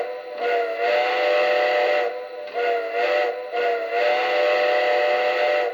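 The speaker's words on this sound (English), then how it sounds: "What a cool sounding whistle." A Lionel Strasburg toy train set's steam whistle sound effect plays in several long blasts with short gaps between them, loud and hissing, with no speech.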